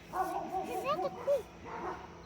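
Dogs on a farm barking and yipping in a quick, excited burst of several overlapping barks close by, with people talking over them.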